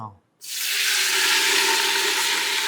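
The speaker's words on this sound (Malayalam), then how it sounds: "ഈ എണ്ണയിൽ നേരിട്ട് ടൊമാറ്റോസ് വറക്കുമ്പോഴേ" Tomatoes dropped into hot oil for biryani, a short quiet pause followed by a loud, steady broadband sizzle that stays close and continuous to the end.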